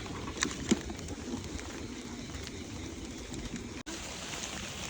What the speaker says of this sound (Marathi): मित्रांनो पाऊस आलाय